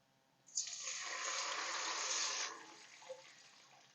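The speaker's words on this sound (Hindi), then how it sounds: "अब इसमें पानी शामिल करूँगी।" Water gushes into a cooking pan with fried onions for zeera rice, a single bright pour of about two seconds that swells, then tapers off with a small splash, close and clear.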